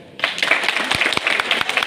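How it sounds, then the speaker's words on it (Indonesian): Brief burst of audience applause at a regency government working meeting, with clapping starting abruptly and continuing loudly for under two seconds. "Tepuk tangan dulu."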